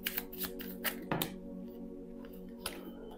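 Tarot cards are shuffled in quick, quiet riffling bursts and soft slaps, close by, with short pauses between the shuffles.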